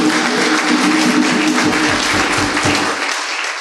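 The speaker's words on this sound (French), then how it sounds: "quand vous entendez Jésus, vous avez le droit d'applaudir Jésus aussi" A church congregation claps together in steady, dense applause, loud and continuous, tapering off slightly toward the end.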